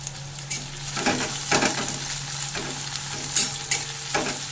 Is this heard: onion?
yes